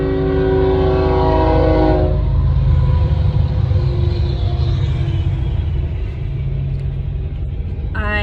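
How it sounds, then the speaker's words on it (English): A train crosses nearby with a loud horn blast sounding at the start, then a continuous heavy rumble of wheels and cars rolling by, with a brief metallic squeal near the end. "And now I'm watching a train cross."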